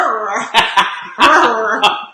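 A dog lets out a quick series of short, loud, close barking yelps in uneven bursts, with no other sound around them.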